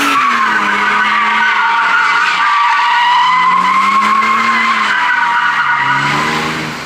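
Car tires skid and squeal loudly while doing donuts, a sustained wavering screech with the engine droning underneath, close and continuous for the whole stretch before easing off at the end.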